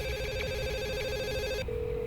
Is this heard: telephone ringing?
yes